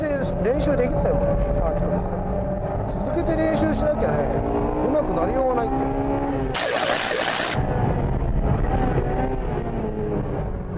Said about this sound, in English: the engine is still running strong